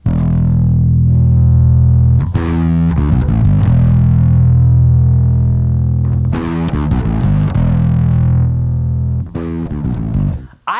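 Bass guitar through a Boss ODB-3 bass overdrive with highs cut and lows boosted plays loud, sustained low notes with gritty attacks as the gain is swept, in several phrases separated by brief pauses.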